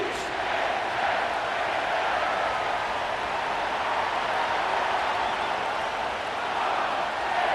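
A stadium crowd at M&T Bank Stadium in Baltimore, home of the Ravens, roars in the Madden NFL 25 video game as an unbroken, dense wash of cheering that holds at a steady level throughout.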